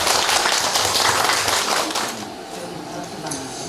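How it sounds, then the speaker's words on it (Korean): Audience at a church-run senior college class clapping together, loud and full at first, then thinning and fading out within a few seconds. "박수 치고 쉬겠습니다."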